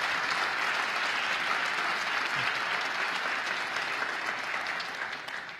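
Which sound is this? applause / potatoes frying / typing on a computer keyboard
applause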